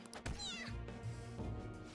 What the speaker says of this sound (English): Goddamn cat!